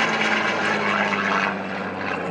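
A Spitfire Mk XIX propeller aircraft's piston engine gives a steady, loud, droning roar with a constant low hum, heard alone and close without voices.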